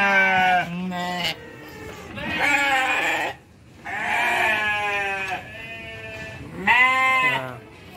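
A stumbling goat on a livestock farm bleats loudly several times in wavering calls close by, with short pauses between cries and no talking.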